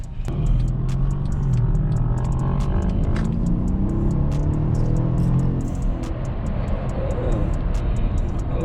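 A twin-turbo Mercedes CLS 550 engine accelerates steadily and loudly, its broad roar holding through the whole stretch with faint ticking on top.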